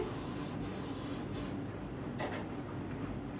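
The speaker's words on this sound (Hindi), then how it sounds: "Then here spray." Hair spray hisses from a can onto hair being styled into a sleek low bun, a continuous close spray with a few short breaks.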